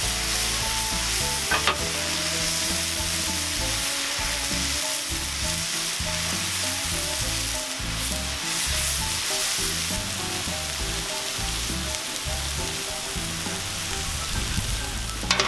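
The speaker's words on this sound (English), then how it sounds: "That's sizzle." Top sirloin steak and asparagus sizzling on a Cuisinart 360° griddle, a steady close crackle and hiss with occasional scraping and stirring noises, no talking over it.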